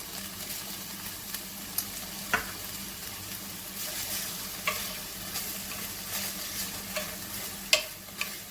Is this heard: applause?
no